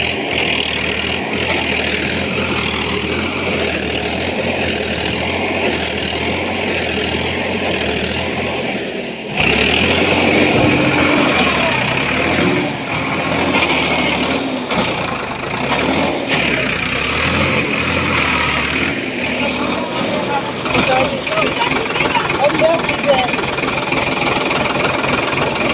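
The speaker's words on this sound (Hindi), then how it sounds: "भाई साहब ट्रैक्टर अकेला दम लगा रहा" Engine of a tractor straining while stuck, a continuous loud rumbling drone with knocking that shifts and surges as it labors, close by, with faint voices in the background.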